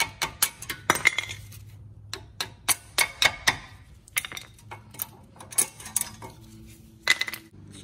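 Worn brake pads come out of a car's brake caliper, giving a series of sharp metallic clicks, clinks and light knocks at irregular intervals, close and fairly quiet, with no talk.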